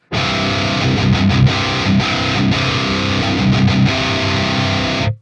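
A loud electric guitar driven through a Neural DSP Fortin Nameless X overdrive plugin, sustained distorted chords ringing continuously with brief choppy breaks, then cutting off abruptly.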